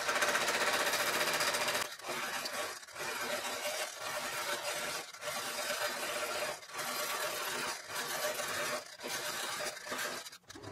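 A Quilt Butler computerized quilting system drives a sewing machine through a quilting pattern, a loud, continuous rapid stitching with brief regular pauses as the pattern moves.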